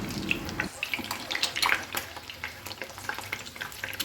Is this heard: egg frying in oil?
yes